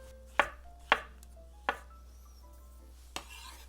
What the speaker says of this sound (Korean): 표고버섯을 넓게 썰어서 할 거예요.